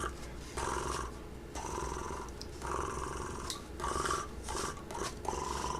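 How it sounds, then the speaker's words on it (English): A cat purrs close up in steady, rhythmic cycles, each rumbling breath in and out clearly audible, with no talking. "Come here, let's purr."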